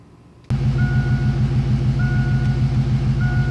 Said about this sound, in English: So this is basically as low as the idle will go in gear